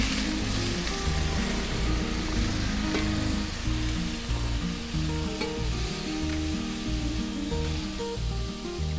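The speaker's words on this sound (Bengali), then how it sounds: "ইঁচড়গুলো ভেজে নেবো এবার সুন্দর করে।" Young jackfruit pieces fry in a pan, giving a loud, steady sizzle and crackle with occasional stirring noises, heard close up with no talking.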